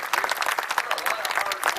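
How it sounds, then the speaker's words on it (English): Brief burst of audience applause at a ceremony at the Presidio of San Francisco, a steady mass of clapping from a crowd, fairly close and even throughout. "How about a round of applause for everyone?"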